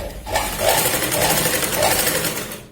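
A sewing machine runs a straight seam on a katori blouse, its fast needle chatter rising and holding steady for a couple of seconds before cutting off, close and clear.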